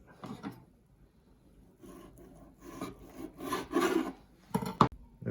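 A knife slides along the skin of a raw salmon fillet, giving a soft, intermittent rasping scrape that swells toward the end, close and fairly quiet.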